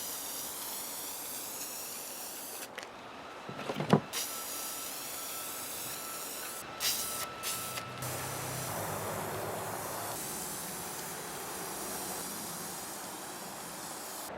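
A spray paint can coats a bell-shaped Christmas decoration, inside and out, with a steady close hiss that swells in the second half, broken by a few sharp knocks and clicks early on.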